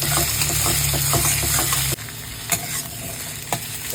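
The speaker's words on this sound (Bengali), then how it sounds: "তো এই জাস্ট এপিট ওপিট 2-4 বার নাড়াচাড়া করে এর মধ্যে এবার আমি দিয়ে দেবো ক্যাপসিকাম গুলো" Onions stir-frying in a pan send up a loud, steady sizzle and the scrape of a spatula. The sizzle drops off sharply partway through, leaving quieter hissing punctuated by a couple of sharp clinks.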